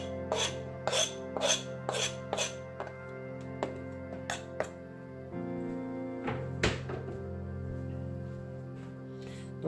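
Fresh oregano leaves being finely minced with a knife on a cutting board for pizza sauce: a quick run of crisp rhythmic taps, then slower scattered chops and scraping, quiet and close, with no speech.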